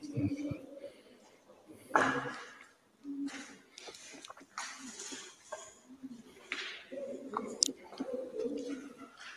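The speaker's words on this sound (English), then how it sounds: "Them pigeons are going crazy." Pigeons cooing and flapping about inside an old, vintage-looking building, with soft coos, rustling wingbeats and scattered clatter at close range beneath a person talking.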